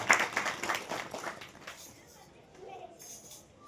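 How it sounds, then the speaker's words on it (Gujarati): A short burst of applause for the sons at a memorial bhajan gathering honoring their late mother, crisp and fairly close for about a second and a half, then fading into a quiet room. "એ દીકરાઓને તાળીઓના ગગડાટથી વધાવો"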